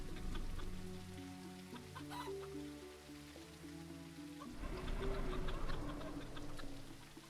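Chickens cluck in the video game Teddy's Haven against a steady wash of rain. The rain stays loud throughout, with game music-like tones running alongside it and the fowl calls sitting low in the mix.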